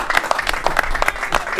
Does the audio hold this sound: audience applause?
yes